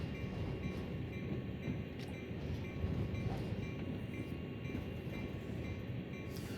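A train in Train Sim World rolls along with a continuous low rumble and a faint rhythmic clatter, steady and unbroken throughout.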